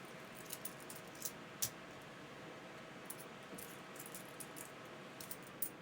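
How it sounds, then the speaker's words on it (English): Quarters from a coin roll are shuffled by hand close up, giving faint, sparse metallic clicks and light jingles against a quiet background. "Also listening for the sound when I'm shuffling through them."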